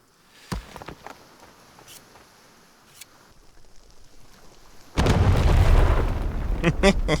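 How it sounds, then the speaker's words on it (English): Bombs go off in a video game set at a seaside fishing outpost: a few sharp pops early on, then a loud, sustained rumbling blast that carries on for a couple of seconds. "I got plenty of bombs."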